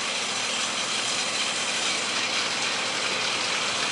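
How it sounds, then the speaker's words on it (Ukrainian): A combine harvester threshes soybeans in the field with its header running, giving a loud, steady mechanical roar and rattle that holds without pause and with no talking. "комбайн запускає жатку і починає гарно молотити"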